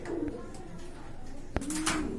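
A male pigeon coos in a low, throaty, rolling call beside his mate, close and clear, with a brief sharp knock partway through.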